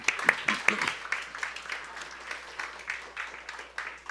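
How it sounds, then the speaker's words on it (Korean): Scattered clapping from a church youth service audience, a few sharp claps at first, then a steady patter of applause continuing throughout. "박수 한번 주세요"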